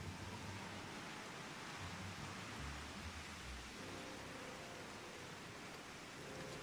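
Rain in the video game Final Fantasy XIV falls as a steady, broad wash of hiss with a faint low rumble, continuous and fairly quiet with no voices.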